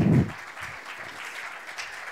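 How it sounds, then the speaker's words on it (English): Audience applause at an insurance industry skills event in Gibraltar: a loud burst of clapping in the first quarter second that quickly fades into scattered, softer claps and room noise. "Round of applause, please."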